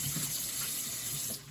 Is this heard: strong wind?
no